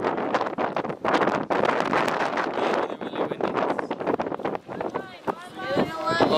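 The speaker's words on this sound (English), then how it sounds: "It's really windy." Strong wind on an exposed mountain hiking trail buffets the microphone in loud, gusty roaring bursts, with voices heard faintly near the end.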